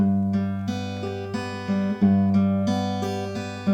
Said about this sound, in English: This is a G, so it's going to sound like this.